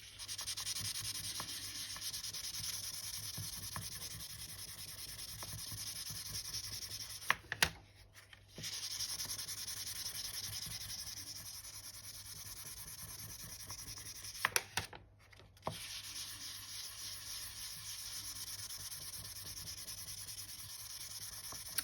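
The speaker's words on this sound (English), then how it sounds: "now let's give it a good burnish. Again with my steel soap." A steel soap bar burnishes polymer clay for a mokume gane jelly roll pendant, making continuous soft rubbing and scraping strokes close up, broken by two short pauses, with no talk.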